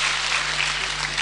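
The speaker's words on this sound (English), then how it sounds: "Just clap, clap" Audience at a university graduation ceremony clapping in a steady, even burst of applause, moderately loud, with no voices over it.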